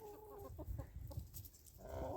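Chickens cluck on a small farm that keeps dairy goats and mini donkeys, several short calls spaced through steady low background noise, fairly close, with no talk.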